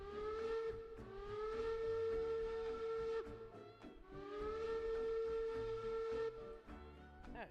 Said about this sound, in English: That is a loud whistle.